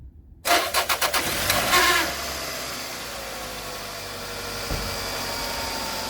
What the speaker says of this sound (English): next thing you do is start it up and run it